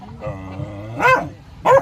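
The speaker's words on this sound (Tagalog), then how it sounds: "So, may aso dito sa sa kubo niya" A dog at a farm hut with fighting roosters around lets out a whine followed by two sharp, loud barks close by.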